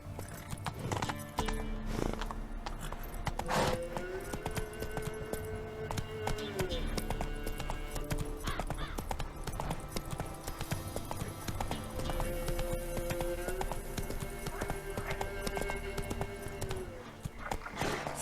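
A horse galloping in The Witcher 3 video game, with rhythmic clip-clop hoofbeats running steadily throughout, plus occasional snorts and brief voices and game sounds layered over the hooves.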